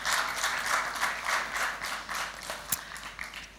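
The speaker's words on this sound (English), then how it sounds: "Ladies and gentlemen, a round of applause to our two finalists." A school quiz competition audience at a grand final applauds the two finalist teams, a dense, loud burst of clapping that tapers gradually, with a couple of sharper isolated claps near the end.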